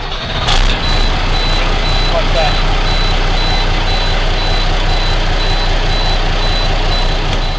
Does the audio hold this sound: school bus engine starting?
yes